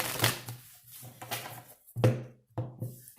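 Tarot cards being shuffled in a few quick bursts, crisp riffling and slapping close up, with short pauses between handfuls.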